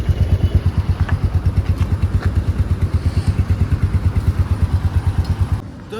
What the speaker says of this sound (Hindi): हम देखेंगे अब हमारा बाइक हो गया है चालू।